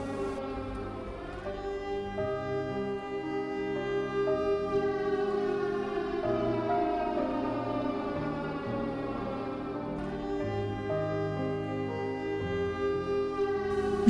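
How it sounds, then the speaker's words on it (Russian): Air raid drill sirens wail loudly and without a break for about fourteen seconds, a dense layered tone that holds steady with slow, gentle swells in pitch. "Учебная тревога, вой сирен."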